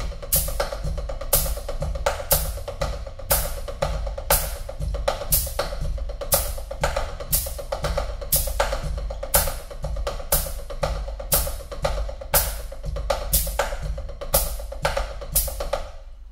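A snare-style practice pattern of drumsticks plays the B section of an intermediate hand-technique etude with its repeat, sharp evenly spaced strokes in a steady rhythm with accented hits, alone and close.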